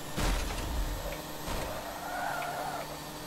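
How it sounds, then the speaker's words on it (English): Race cars in a video game hum by at a subdued engine pitch, with a few sharper passing swells and faint tire noise, no roaring. "These cars are, so quiet."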